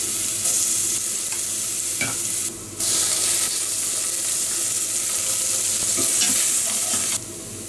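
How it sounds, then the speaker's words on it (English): Oil sizzles hard in a cooking vessel as spices are tempered for a leftover tapioca dish. The frying hiss is close and continuous, with two brief dips in intensity. "This is very basic tempering I am making for a leftover tapioca."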